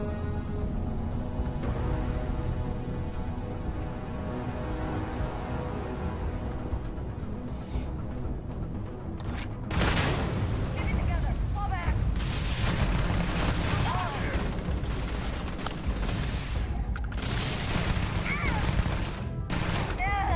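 An 11mm weapon firing in the sci-fi game Starfield: after a quieter stretch of game ambience, a sustained loud barrage of rapid shots and booms runs for about ten seconds, with brief sharp breaks between bursts.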